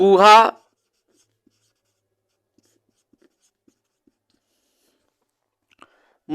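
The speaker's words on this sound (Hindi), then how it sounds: "तो इस पॉइंट को दोस्तों हम लिखते हैं" Pen strokes of note writing come as faint, sparse scratches in near silence, close up, with a short burst of speech at the start and end.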